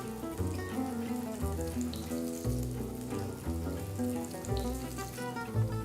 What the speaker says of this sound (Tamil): எண்ணெய் சூடானதும் இதுல செஞ்ச பேட்டிஸை போடுங்க.